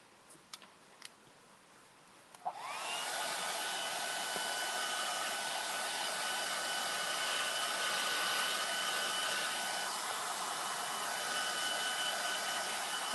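Hair dryer blasting hot air over a freshly stained wood finish, switched on after a few faint clicks and then running as a steady, loud whoosh, alone without talk.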